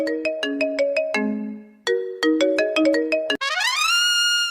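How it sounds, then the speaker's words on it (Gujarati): A mobile phone plays a loud melodic ringtone of quick chiming notes in two bursts, ending with a rising electronic sweep. "જો તો ફોન આવ્યો, કોણ છે?"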